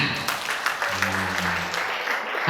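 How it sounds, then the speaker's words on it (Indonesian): Clapping from an audience at an agricultural book launch, a steady patter of hands that runs under a low hum, with a voice faintly present as the applause continues. "tepuk tangan."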